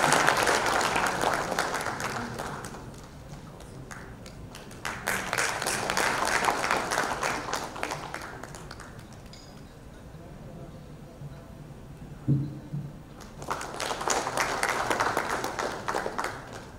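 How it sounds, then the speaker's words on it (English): Audience applause at the Energy for Health 2024 event for the North Eastern region, with broad bursts of clapping that rise, fade and return in waves, separated by quieter stretches carrying murmur and a short knock. "Can we have a round of applause?"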